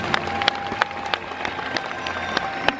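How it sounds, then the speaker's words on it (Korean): An audience at a church gathering applauds to welcome a guest pastor, a brief spread of claps sounding in the hall over steady room noise. "박수로 모시겠습니다."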